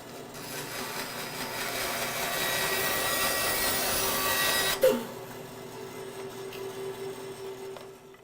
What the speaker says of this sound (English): Okay, back to the bandsaw again.